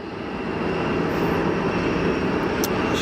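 An EgyptAir jet airliner taxiing at Geneva Airport, a steady, loud engine roar and whine holding constant throughout, with no talking.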